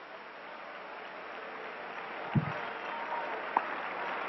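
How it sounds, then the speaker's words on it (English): A church congregation at a 1980s revival meeting applauds in a continuous wash of clapping that swells steadily, with a couple of sharper knocks partway through. "Would you clap again and loosen yourself for what is about to"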